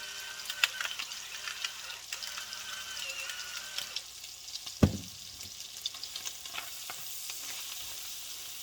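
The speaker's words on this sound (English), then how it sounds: "the butter has melted. I'm going to go ahead and throw in some garlic and some pepper" Garlic and pepper hit melted butter in a stovetop pan, giving a steady close sizzle and frying hiss with light stirring clicks and one sharp knock near the middle, no talking.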